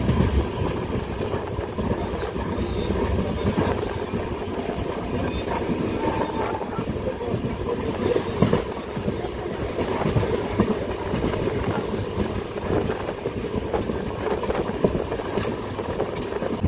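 The Kanchan Kanya Express runs on its Sealdah to Alipurduar route with a steady, loud rumble of wheels and carriages, faint clickety-clack on the rails and wind buffeting throughout, with no pauses.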